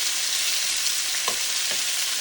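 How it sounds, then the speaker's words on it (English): Shrimp searing in a hot pan, a steady broadband sizzle throughout, with a couple of brief scraping or stirring touches near the middle. "you're gonna sear one side of the shrimp"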